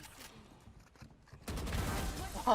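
Gunfire in the video game Valorant, a burst of rapid automatic shots that comes in suddenly partway through and follows a quieter stretch of game sounds, with a player's voice faintly present.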